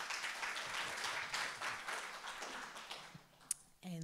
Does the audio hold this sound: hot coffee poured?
no